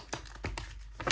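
Tarot cards being shuffled, a few soft papery riffles and slaps in quick succession, faint and close with no talking.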